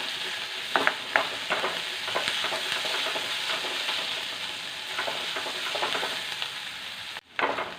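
Ingredients for a Kerala-style mango mappas curry sauté in a pan with a continuous soft sizzle, broken by frequent clicks and scrapes of a stirring spoon, then a brief drop near the end.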